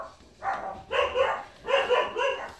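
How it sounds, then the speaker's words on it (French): Dogs bark in several short bursts, three or four yapping barks spaced about half a second apart, moderately close and fairly quiet, heard alone without talk. "Désolé pour les chiens qui jappent."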